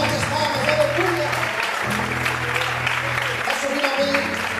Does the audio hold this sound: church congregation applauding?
yes